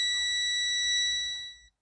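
A multimeter on a continuity test gives a single steady electronic beep while a Volvo V70 filler cap solenoid is being checked. The clean, sustained tone lasts about a second and a half and cuts off at the end.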